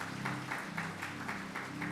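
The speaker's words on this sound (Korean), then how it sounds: "우리 주님께 영광의 박수 올려드리겠습니다." A church congregation claps in steady rhythmic unison, about four claps per second, moderately distant and alone without talk.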